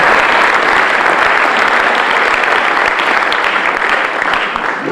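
Church congregation applauding and cheering the Lord, loud sustained clapping filling the whole stretch with steady, dense energy, a large crowd close and unbroken.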